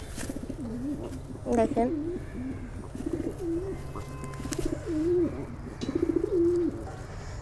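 English Fantail pigeons coo in repeated rolling phrases close by, with a soft background hum and a person speaking briefly.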